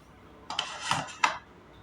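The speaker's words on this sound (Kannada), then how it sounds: "ಇವಾಗ ಕುಕ್ಕರ್ ಲಿಡ್ ಕ್ಲೋಸ್ ಮಾಡ್ತಾ ಇದ್ದೀನಿ." A pressure cooker lid being fitted and closed over jeera rice, giving a few short metallic clanks and scrapes close by in a quiet kitchen.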